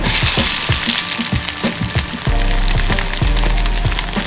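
Onions frying in a pan after garlic and ginger, a steady broadband sizzle with repeated low knocks of stirring, fairly loud and close, with no voices.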